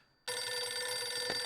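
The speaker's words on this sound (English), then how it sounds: "Oh, the phone." A telephone rings in the video game Eternal Darkness, its electronic bell tone starting abruptly after a short silence and sustaining steadily and clearly.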